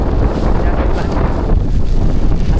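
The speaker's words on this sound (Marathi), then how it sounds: "धुकं आणि वारा त्याच आहे." Strong wind buffeting the microphone at Raigad fort on a foggy monsoon day, a loud continuous roaring rumble without a break.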